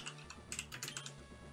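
Quick, light typing on a computer keyboard, a short run of soft, close key clicks in an irregular rhythm, fairly faint and with no voices.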